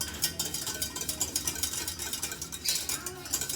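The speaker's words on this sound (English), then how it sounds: "turn the heat down and just keep giving it a whisk" A whisk works through a sauce in a pan, making a quick, steady scraping and light tapping against the metal, moderately quiet and close.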